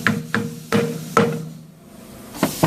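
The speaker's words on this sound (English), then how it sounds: "go onto the wheel, match it up where it's going to be at, which is going to be right here. You want to hammer it on." Five sharp hammer strikes tap a balance weight onto a tire wheel rim in a workshop, spaced unevenly with a brief pause before the last pair, close and distinct.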